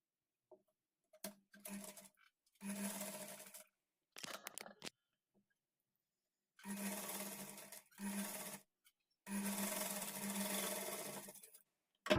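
Sewing machine stitching the folded back neck of a blouse in several short bursts of whirring, separated by silent gaps and small handling taps, close and fairly quiet.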